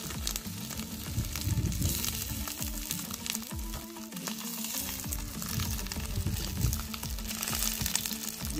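Sheep fat sizzles in a kazan cauldron while cooking sirne, a dense, steady crackling fry that stays close and continuous throughout with no voices.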